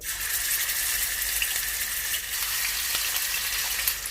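A steady, loud hiss and crackle of ginger garlic paste frying in hot oil, constant throughout with faint clinks of stirring.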